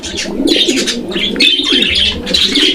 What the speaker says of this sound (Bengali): ভাইয়ের এখানে কিন্তু একদম পাখির কিচির মিচির আওয়াজ